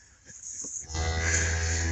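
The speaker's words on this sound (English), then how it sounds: "Two cows checking on the same calf." A cow moos close by in a livestock pen with calves, a loud sustained low bellow after a few softer sounds.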